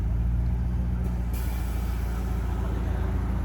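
A car sitting on air ride suspension at a car meet gives a loud, steady hiss of releasing air over low engine rumble, with a sharper burst of air partway through.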